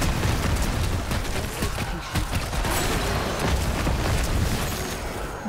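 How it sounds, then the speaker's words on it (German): Rumbling explosions in the action role-playing game Diablo Immortal keep bursting in a dense, continuous, noisy stream, with booms layered over gritty crackle and no clear pauses. "Kann man halt direkt so weiter explodieren lassen"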